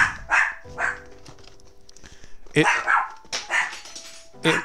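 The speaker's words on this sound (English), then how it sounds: "I hate when my dog barks." A pet dog barks indoors in a run of sharp, loud barks with short gaps, some yelping, while a person talks over them.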